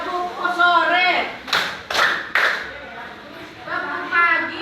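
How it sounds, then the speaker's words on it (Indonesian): A class claps in unison three times during a classroom clapping game: three sharp, evenly spaced claps close together, with a teacher's voice giving instructions just before and after. "Kemudian tepuk sore 3 kali"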